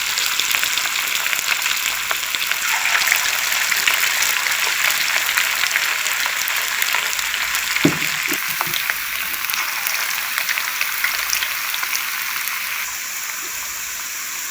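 Chicken pakoras fry in hot oil on medium gas with a continuous, dense crackling sizzle like heavy rain, loud and close, broken once by a faint knock, and no voices.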